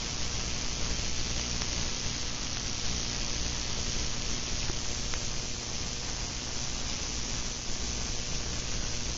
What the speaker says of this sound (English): If you notice, it goes into high frequency noise.